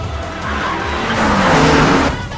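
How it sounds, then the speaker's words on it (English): Racing cars overtake on a curve, tires squealing loudly over roaring engines in one continuous close pass. "Keisuke made the lunge to overtake Hoshino"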